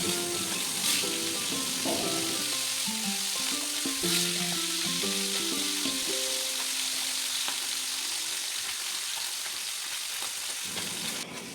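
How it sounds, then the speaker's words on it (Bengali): Bata fish frying in hot oil, a continuous loud crackling sizzle that runs steadily throughout, with a soft melodic tune playing underneath. "তারপর আবার মাছগুলো সেম সব কটা আবার ভেজে নেব একইভাবে।"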